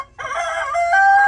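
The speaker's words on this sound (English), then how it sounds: "Old rooster there, he's gonna start crowing for me." An old rooster crows loudly and close by, one long, strained cock-a-doodle-doo rising out of near silence and holding to the end.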